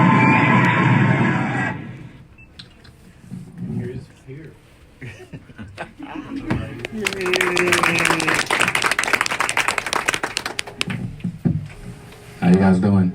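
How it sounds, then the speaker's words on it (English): A crowd applauding and cheering for a speaker at a university event, loud claps and shouts rising in the second half, with a voice talking briefly before and during the noise. "The crowd is so loud. Let me hear some noise."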